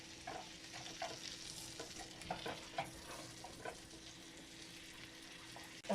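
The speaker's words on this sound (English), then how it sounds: "We're melting the butter." Butter melts in a pan for Rice Krispie squares, a faint soft sizzle with repeated light scrapes of a utensil against the pan, close and quiet throughout.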